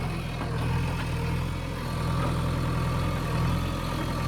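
A tractor engine runs on a wheat farm, a steady low idling drone with a faint rhythmic throb, unchanging throughout and alone without speech.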